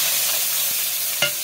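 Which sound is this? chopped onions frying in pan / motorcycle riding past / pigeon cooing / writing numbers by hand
chopped onions frying in pan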